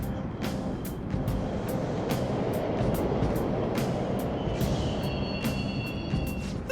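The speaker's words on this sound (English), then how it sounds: "The trains are totally running!" Subway trains running in Persona 5 Royal, a steady low rumble of rolling wheels and machinery with sharp metallic clacks and squeals breaking through at intervals, continuous and fairly loud throughout.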